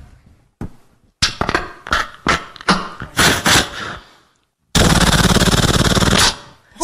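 A performer on a televised mimicry contest vocally imitates rifle gunfire: a string of sharp, loud single shots followed by a sustained rapid burst, close and alone.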